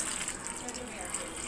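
Water gushing into a cooking pot for dal, a close, steady splashing pour that fills the whole short moment without talk.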